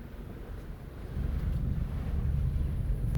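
A 15-20 mph wind at a lakeside campground buffets the microphone with a low, rumbling roar that swells and stays strong, with a faint hiss of water and waves behind it.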